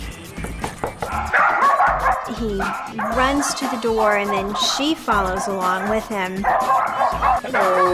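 Two dachshunds barking excitedly at the front door after the doorbell rings, with repeated yips and whimpers close by, continuing under a person talking throughout.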